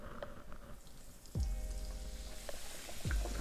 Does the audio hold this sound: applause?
no